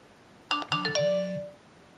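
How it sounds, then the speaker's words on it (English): An iPhone running iOS 5 plays its text message alert, a short bright tri-tone chime of three quick notes ringing out alone in a quiet room. "So you heard the text message go off there"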